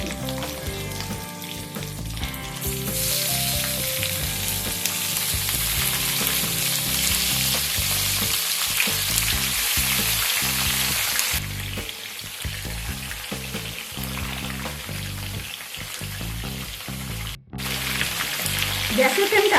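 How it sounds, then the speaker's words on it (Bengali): Medium-sized chicken pieces frying in hot oil, a loud, continuous close sizzle with a hiss that sharpens partway through and a brief gap near the end. "চিকেনের পিসগুলো তেলের মধ্যে দিয়ে দিচ্ছি।"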